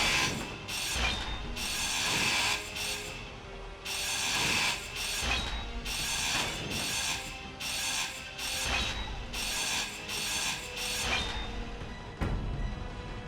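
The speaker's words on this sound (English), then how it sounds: "I'm just gonna grind it down." A grinder in the Space Engineers video game cuts down a built block with a steady, loud, rasping mechanical grind. Rhythmic ratcheting pulses repeat throughout, with no talking.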